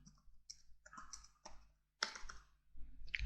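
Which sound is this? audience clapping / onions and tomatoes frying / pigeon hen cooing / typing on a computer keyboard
typing on a computer keyboard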